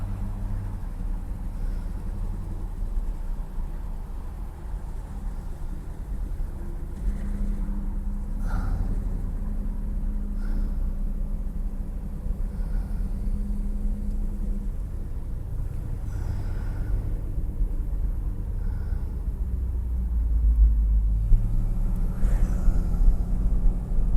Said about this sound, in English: Anyway, start it up and we're going to go.